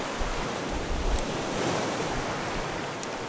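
Broad ocean surf washes steadily around a raft at night in the survival video game Raft, a continuous soft rolling hiss of waves with faint wind and no voices.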